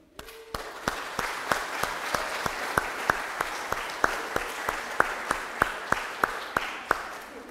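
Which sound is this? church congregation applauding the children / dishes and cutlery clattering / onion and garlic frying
church congregation applauding the children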